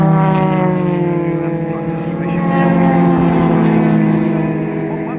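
A classic race car at Silverstone on an outlap during an Equipe classic race, its engine droning steadily and loudly with a rising and falling pitch, with a commentator talking over it.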